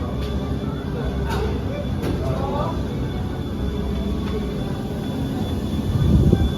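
A small train on the short Serfaus U-Bahn rumbles steadily underground, a continuous low drone with faint squeals and a louder surge near the end.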